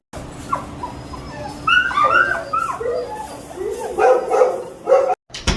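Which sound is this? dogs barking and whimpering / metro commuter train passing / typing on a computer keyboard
dogs barking and whimpering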